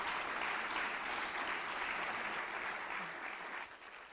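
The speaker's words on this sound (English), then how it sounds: "Can we have a nice round of applause for our panelists today?" An audience applauds panelists at a county government event, a dense, steady wash of clapping from a crowd that holds for several seconds and then tapers off.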